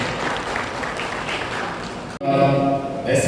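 Audience applause at a police superintendent's farewell ceremony in Petlad, a dense steady clapping that breaks off briefly near the end before a louder burst resumes, with music or voices mixed in underneath.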